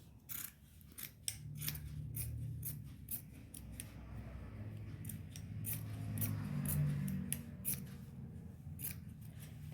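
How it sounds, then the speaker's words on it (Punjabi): Scissors cut through salwar fabric for a Patiala-style salwar, giving a run of crisp, close snipping strokes in irregular bursts over a faint, quiet background. "ਇਸ ਤਰ੍ਹਾਂ ਆਪਾਂ ਕੱਟ ਦਵਾਂਗੇ"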